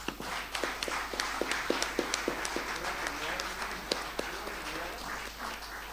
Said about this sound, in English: And can we have another round of applause?